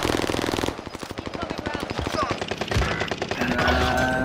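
Rapid bursts of automatic gunfire crackle in a battle royale video game as players talk excitedly over the loud, continuous shooting.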